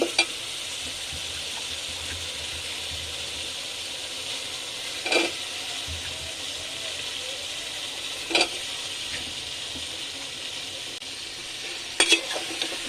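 Potatoes cooking in a pan of sizzling spice masala after the oil has separated, a continuous bright hiss with a few brief clatters of stirring spread across the stretch.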